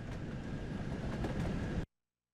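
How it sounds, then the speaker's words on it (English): An LMS Stanier Class 8F steam locomotive in the video game Train Sim World 3 rumbles steadily along with a low, rolling drone and faint rhythmic clatter, then cuts off abruptly into silence. "you'll be learning how to drive an LMS Stannier Class 8F steam locomotive in BR Black livery"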